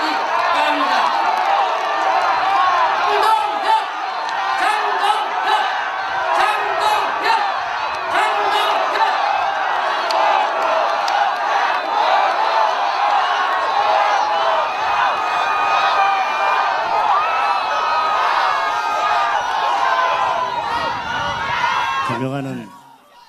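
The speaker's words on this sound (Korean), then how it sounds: "뜨거운 박수와 함성으로 맞이해 주시기 바랍니다" A political rally crowd near the presidential office applauds and cheers loudly for the People Power Party leader, with whoops and shouts over sustained clapping that cuts off abruptly at the end.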